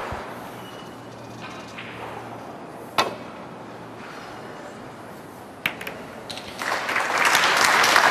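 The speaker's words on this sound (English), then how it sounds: "applause" Snooker audience at the 2016 Northern Ireland Open, Ronnie O'Sullivan versus Jimmy White, in a quiet hall broken by a couple of sharp knocks before applause swells up and fills the final seconds.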